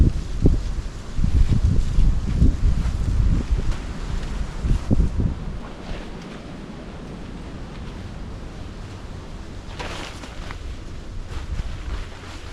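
Wind blowing outdoors around a tarp shelter camp, strong rumbling gusts buffeting the microphone at first, then settling into a steadier, quieter rush with a brief flare near the end.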